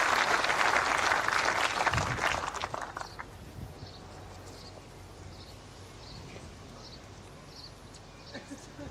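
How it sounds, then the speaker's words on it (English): At the 2016 World Bowls men's singles final between Canada and New Zealand, spectators applaud a good first bowl, a burst of clapping that fades after a few seconds into quiet outdoor ambience with faint birds. "The crowd applauds. That's a good first bowl."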